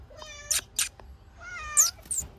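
A pet cat meows several times close by, drawn-out tonal calls separated by short gaps, with sharp bursts between them and no talking.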